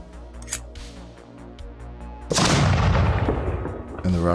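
Grenade explosion effects from weapon animations in Cyberpunk RED on Foundry VTT: a heavy, loud blast that fills the sound and rumbles for about two seconds, followed by another burst starting, after a stretch of lighter background sounds.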